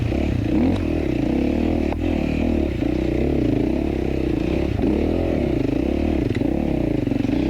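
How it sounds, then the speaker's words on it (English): A motorcycle engine chugs steadily at low revs up a hill during the 2020 Tennessee Knock Out race, a continuous deep rumble with occasional clatter, close and loud throughout. "You can hear the bike chugging up that hill."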